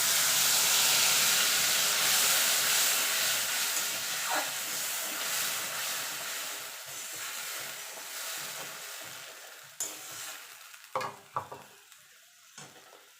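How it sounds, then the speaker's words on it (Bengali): Ground mustard paste hits a hot pan for a mustard bhola fish curry, a loud hissing sizzle that slowly fades, followed by scattered clinks and scrapes of stirring. "এবার সর্ষেটা দিয়ে দেবো।"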